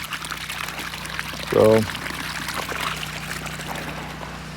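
Dirty water pumped from a newly pounded well, a short gush of pouring water over a steady low pump drone, with one brief spoken word.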